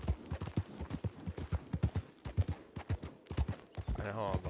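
Horse hooves clip-clopping in a fast, steady galloping rhythm in the Red Dead Redemption Online video game, close and fairly quiet, with a gunshot-like crack near the end.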